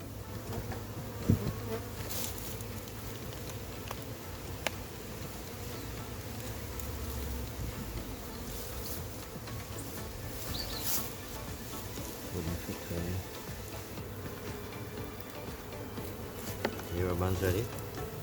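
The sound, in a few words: honey bee swarm buzzing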